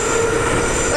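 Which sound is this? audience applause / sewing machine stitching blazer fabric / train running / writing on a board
train running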